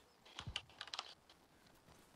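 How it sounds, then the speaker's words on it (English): Fast keyboard typing, a short cluster of quiet clicking keystrokes heard faintly at a distance during an Arma Reforger match. "Guys typing on his keyboard."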